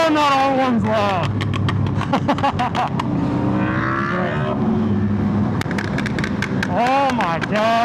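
Loud tuned motorcycle exhaust during a highway group ride, rising revs and repeated sharp crackling pops like gunshots, close and dominant over continuous engine noise.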